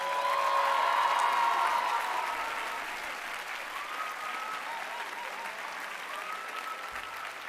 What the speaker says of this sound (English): Please give our graduates one more round of applause.